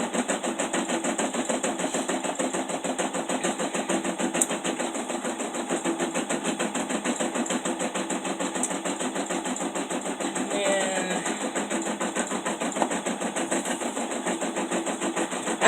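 An embroidery machine stitches an outline around a letter E for an in-the-hoop Easter table runner, giving a steady, fast mechanical whir with rapid needle ticking that runs continuously at an even level.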